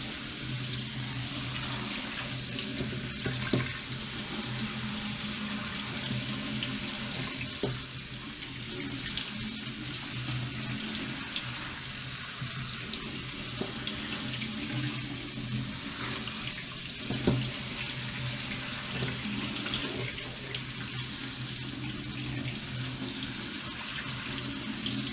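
Water from a tap runs steadily into a sink while quinoa is rinsed, a continuous close splashing hiss with occasional small knocks.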